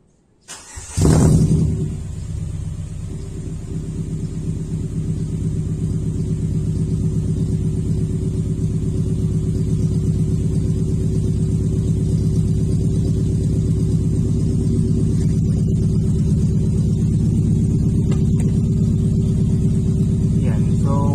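Warm Ford Fiesta engine with a straight-pipe exhaust and the muffler removed cranks and catches near the start, then settles into a loud, steady, low droning idle that continues close by with no talk.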